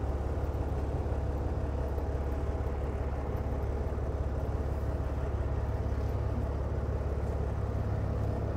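Parked trucks idling their engines nearby, a steady low diesel rumble and drone that continues evenly throughout with no breaks, fairly loud and close.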